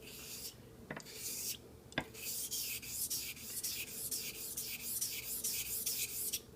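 Straight razor honed on a Japanese natural whetstone (Nakayama suita), a steady rhythmic scraping of strokes repeating about once a second, close and moderately loud, with a couple of sharp clicks early on.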